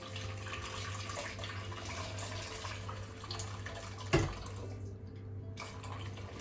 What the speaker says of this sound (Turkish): Şimdi 5 su bardağı sıcak su ekleyeceğim.